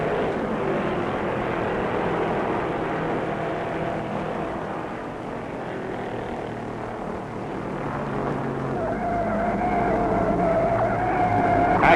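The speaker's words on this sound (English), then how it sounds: "Roy Main and Bill Champion spin in front of the grandstand, sliding into the first turn infield" Stock cars at the 1967 NASCAR World 600 in Charlotte spin and slide into the first-turn infield in front of the grandstand, a loud, continuous roar of engines with tire noise that builds and rises toward the end.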